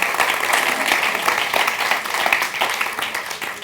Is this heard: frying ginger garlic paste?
no